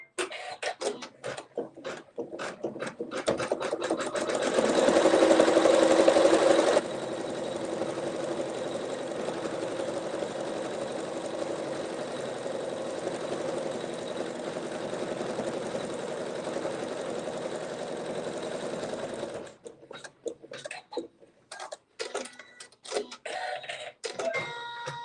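A sewing machine tacks down quilt fabric in one long continuous run, a close, steady mechanical hum with a brief louder surge near the start, then stopping and giving way to scattered handling clicks.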